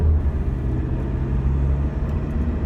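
A car drives along Linhartova cesta in Ljubljana in evening traffic, its steady low engine and tyre rumble heard from inside without change.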